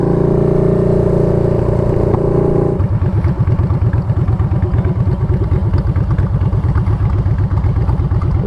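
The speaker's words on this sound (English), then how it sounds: "Riding with all Harleys, man." A group of Harley-Davidson motorcycles riding together: a loud steady engine drone gives way to a close, lumpy V-twin thumping that pulses rhythmically as the bikes cruise, with no talking.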